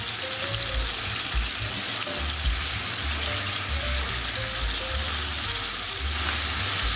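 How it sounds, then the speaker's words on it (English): Steady, loud sizzling of Thai lime chicken skewers frying in a hot pan, a continuous crackling hiss with faint bubbling throughout. "you want to make sure you're hearing that sizzle."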